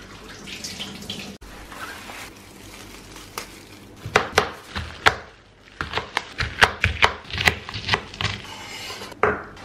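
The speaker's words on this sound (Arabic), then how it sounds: "نحتاج طماطم هنقطعها شرايح، وهنحتاج كمان قرن فلفل" Tomatoes being sliced and peppers chopped on a cutting board in a home kitchen, the knife striking in quick irregular bursts of close, sharp chops after a stretch of softer handling and rustle.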